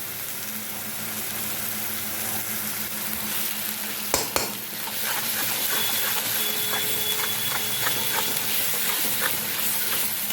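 Green chili paste sizzles and fries in hot oil for a katla fish curry, a steady close hiss with a brief clatter of stirring partway through, and no voices.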